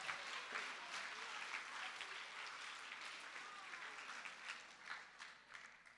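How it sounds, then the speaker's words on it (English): Faint, steady applause from a school audience honoring graduating seniors, a dense wash of clapping across the whole stretch with no voices on top. "Let's give our seniors a big round of applause."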